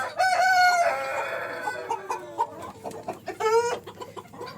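On a farm of fancy chickens vaccinated against bird flu, roosters crow loudly nearby in long, drawn-out calls while hens cluck in short, scattered bursts beneath.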